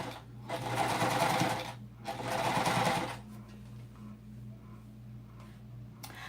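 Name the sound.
serger sewing machine stitching minky blanket fabric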